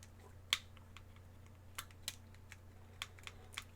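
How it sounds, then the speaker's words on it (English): Clicky, soft directional-pad presses on a Razer Kishi V2 mobile gaming controller, a handful of sharp, close taps spaced irregularly over a quiet low hum. "softer, more clicky in the directional pad on the second version"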